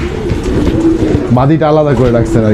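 Fantail pigeons cooing close by, soft low repeated throaty coos running under a person speaking nearby.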